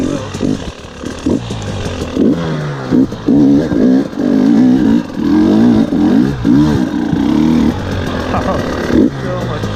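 A rally car's engine revving hard and pulling under acceleration, loud and close with rising and falling pitch as the throttle opens and eases.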